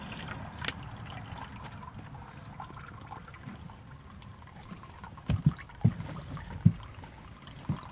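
Water draining from aquaponics buckets after the pump is unplugged, a low, steady gurgling trickle with a few louder knocks and splashes near the end; no talking.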